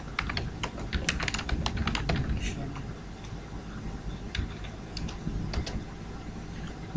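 Someone types basic HTML tags into a code editor on a computer keyboard, producing close, brisk clusters of key clicks with short pauses between bursts and no speech.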